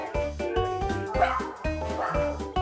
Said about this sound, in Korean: 옆에 계속 강아지가 와서 보고 있어.